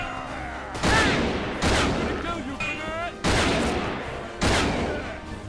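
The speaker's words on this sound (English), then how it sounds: "give me that machine gun" Machine gun fire from the video game Fallen Aces, with four loud broadband bursts of rapid automatic shots, each cutting in suddenly and decaying, mixed with in-game character voices.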